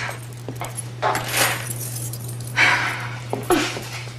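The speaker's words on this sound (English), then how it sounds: "Keys." Keys jangle in a few short, close metallic bursts with quiet pauses between them, heard over a steady low hum and no talking.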